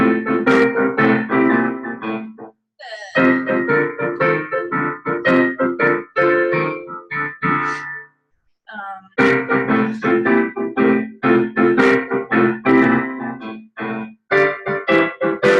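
Piano playing the Jackson Blues 4 pattern, a busy run of rhythmic chords and notes played loud and close, broken by two short pauses before the pattern resumes, with no talking.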